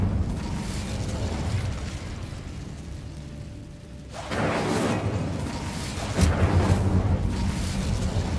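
An Incendio fire spell cast in Hogwarts Legacy comes in with a sudden whooshing roar of flame, followed by a second louder burst, over steady rumbling game ambience.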